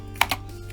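Typing on an Epomaker SK61 mechanical keyboard: three quick, crisp key clicks spaced unevenly over a moment, close and fairly quiet.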